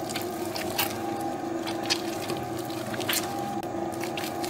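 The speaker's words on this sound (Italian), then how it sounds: "A questo punto versiamo il resto dell'acqua sempre a filo, così." Water trickles slowly in a thin stream into sfincione dough, the Palermo street-food flatbread, with soft steady wet pouring and squishing close by and no talking.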